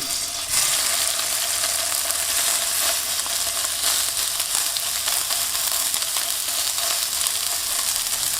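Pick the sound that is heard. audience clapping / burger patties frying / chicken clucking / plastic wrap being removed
burger patties frying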